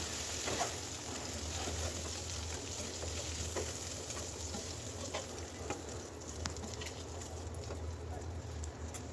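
Fish head frying in oil in a pan, a steady continuous crackling hiss with faint clinks, fairly quiet and close.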